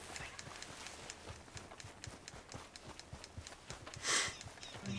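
Horse hooves clip-clop in a steady, quick rhythm in Red Dead Redemption 2, close and fairly faint, with a short swish of noise near the end.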